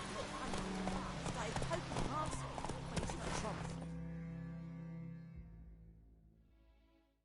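In The Witcher 3 video game, the horse Roach's hooves clop in a quick galloping rhythm under a voice. The sound then trails off into a fading tone.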